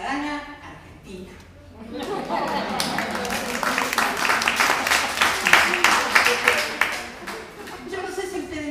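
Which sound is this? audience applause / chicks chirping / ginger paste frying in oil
audience applause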